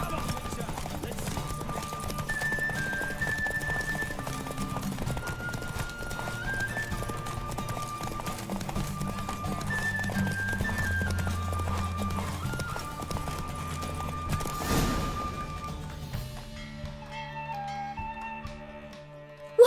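Rhythmic hoofbeats of a galloping horse in The Witcher 3: Wild Hunt run steadily beneath melodic background music, with a horse whinnying near the end.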